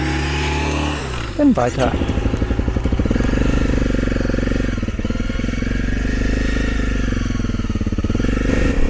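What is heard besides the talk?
motorcycle passing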